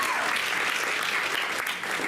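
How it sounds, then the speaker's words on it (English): An audience at a wearable art show gives a steady, even round of applause, a dense wash of many hands clapping at moderate distance throughout. "So, starting off the stage for Jeannie, we are giving you a round of applause."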